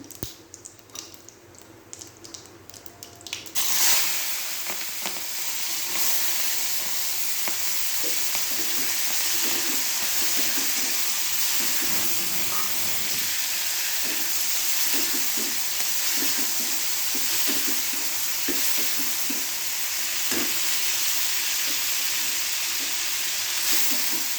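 Cowpea pods hit hot oil in a pan and set off a loud, steady sizzle that begins suddenly a few seconds in and keeps going unbroken, with occasional scraping and stirring sounds and no voices.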